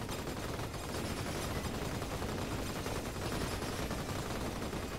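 Rapid gunfire from a video game rattles continuously, dense overlapping shots forming a steady loud barrage throughout with no pauses.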